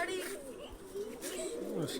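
Pigeons coo softly in low, rolling murmurs close by, with rustling and faint background chatter mixed in.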